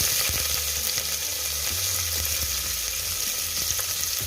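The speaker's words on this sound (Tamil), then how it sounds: "ஒரு குக்கரில் தேவையான அளவு கொஞ்சமாக எண்ணெய் ஊற்றி பட்டை கிராம்பு ஏலக்காய் எல்லாம் போட்டு நல்லா ஹீட்டாக" Cinnamon, cloves and cardamom crackle and sizzle steadily in hot oil in a pressure cooker, a loud continuous close frying hiss with faint low knocks throughout.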